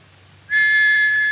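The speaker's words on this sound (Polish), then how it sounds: "Czekaj na gwizdek sędziego." Referee's whistle at a sports match, one sharp, loud, steady blast that starts abruptly after a quiet moment and holds to the end.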